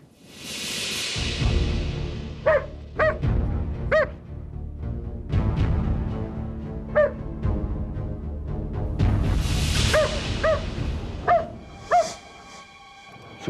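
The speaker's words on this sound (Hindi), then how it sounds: "ये यहाँ क्यों भौंक रहा है?" A dog barks in short clustered bursts of sharp yaps and woofs, fairly close, over steady rumbling background noise, with several separate volleys across the scene.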